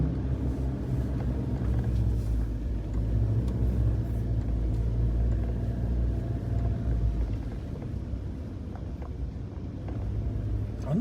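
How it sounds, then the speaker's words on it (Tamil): Car on a desert drive over sand dunes near Sealine Beach, Qatar: a continuous low engine rumble with road-like roar from inside the cabin, steady and close, with no talk heard. "சூப்பரா போகுது இல்லை வண்டி?"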